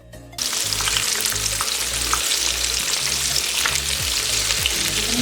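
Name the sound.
chicken pieces frying in oil in a pan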